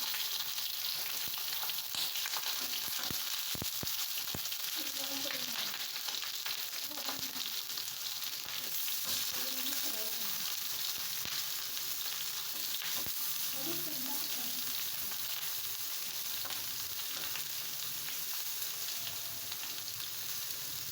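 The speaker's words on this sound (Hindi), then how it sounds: "ऑयल डालने के बाद सीख कबाब को फ्राई कर लेंगे।" Seekh kebabs fry in oil on a flat tawa with a steady, dense sizzle and crackle, close and fairly loud, joined by a few faint scrapes and clinks of stirring, with no voices.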